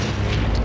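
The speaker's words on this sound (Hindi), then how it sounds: "मिसाइल से हमला?" A loud, rumbling blast from a missile attack in the Transformers Prime cartoon, a sustained booming roar with no voices over it.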